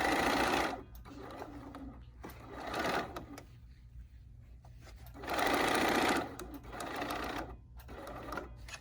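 A sewing machine stitches a Swiss patrol pin cushion, running in several bursts of rapid, even mechanical clatter separated by quieter pauses, heard up close.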